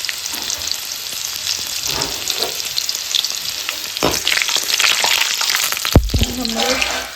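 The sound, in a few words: crushed garlic frying in oil with mustard seeds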